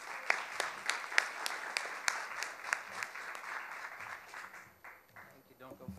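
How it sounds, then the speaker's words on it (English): Conference audience applause, fairly faint and thin, with individual claps standing out in a loose, uneven rhythm that thins and fades out after about four seconds. "So let's give him a round of applause."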